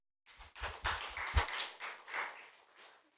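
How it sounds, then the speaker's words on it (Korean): A small church congregation claps faintly and unevenly for a few seconds, with scattered individual claps rising and fading. "박수합시다."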